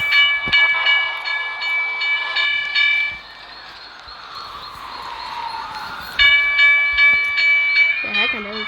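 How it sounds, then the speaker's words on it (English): A simulated train in a train-versus-cars contest passes loudly, with sustained horn or whistle tones that stop, then sound again over rail rumble. A voice is heard briefly near the end. "The heck, another train?"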